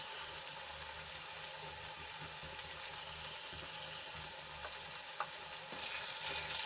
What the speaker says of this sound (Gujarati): મસાલાને સરસ રીતે મિક્સ કરી લઈશું